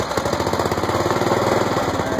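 A tractor with a forbiddenloc locker and bear claw tires drives under load, its engine chugging in a fast, steady, rhythmic pulse that stays loud and close throughout.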